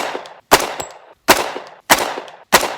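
Four loud, sharp gunshots from a CMMG Banshee 9mm firearm, spaced roughly 0.7 seconds apart, each one ringing out with a short decaying tail and no talking.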